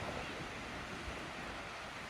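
A waterfall in Iceland roars as a steady, dense wash of rushing water, broad and unbroken for about two seconds, with wind buffeting the microphone and no voices.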